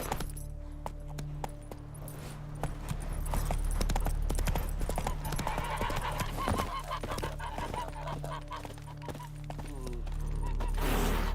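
A horse gallops in The Witcher 3 video game, its rapid hoof clip-clops drumming steadily and close throughout, with game music and ambient tones underneath.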